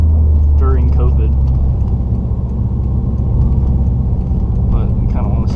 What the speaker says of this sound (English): Past the cops with your loud ass car at 11 at night on a Sunday